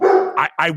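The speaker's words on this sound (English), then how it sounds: "I apologize for my dog sound." Dog barking close by indoors: a drawn-out whine-like yelp followed by two short sharp barks in quick succession, loud and near, with a brief human voice overlapping.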